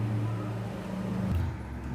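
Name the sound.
mixer grinder blending papaya and sugar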